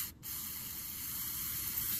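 A steady hiss of spray blows dust out of a car's gas tank lines, starting after a brief pause and continuing evenly at close range, no talking.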